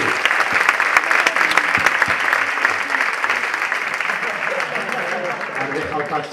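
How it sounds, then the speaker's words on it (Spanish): Enthusiastic audience applause at a mentalism show, loud and sustained with sharp individual claps standing out, slowly thinning toward the end while faint voices mix in. "¡Un aplauso para ambos!"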